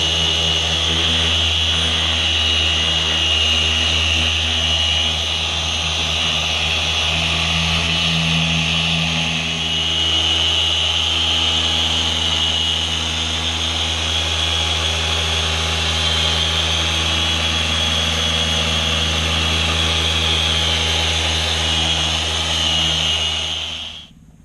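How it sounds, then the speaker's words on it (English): A machine polisher fitted with a microfiber cutting pad and compound runs on car paint, a steady close droning whir with a constant tonal hum, unbroken for the whole stretch and fading only at the very end. "First pass with a microfiber cutting pad and compound."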